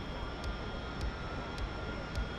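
A Harrier jet engine spools up during a cold start in the DCS flight simulator, a steady loud roar with a thin high whine and faint regular ticks repeating about every half second.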